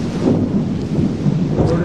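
Rain with thunder in an urban setting: a loud, dense wash of rainfall with a deep rolling rumble underneath, continuous and close, with no clear talk.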